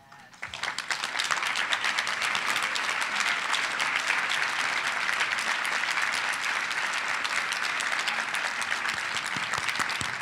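An audience at a women's achievement event applauds the standing board of directors: sustained, dense clapping that swells quickly after a quiet start and holds at a steady, full level for about ten seconds.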